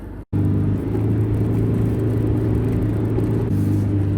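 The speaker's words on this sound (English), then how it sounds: "going to try and get down onto the beach here in the four-wheel drive" A four-wheel drive crawls over soft beach sand, its engine giving a steady, close, loud low rumble with a constant hum after a brief cut at the start.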